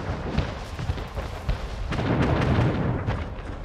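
Naval cannons fire on island defenses in Anno 1800, a dense barrage of booming shots and explosions overlapping in quick irregular succession, loud and continuous throughout.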